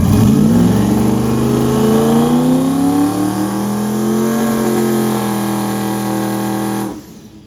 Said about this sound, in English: So I'm doing a quick little warm up on the Integra right now.